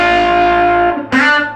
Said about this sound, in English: You can put a little vibrato on that too.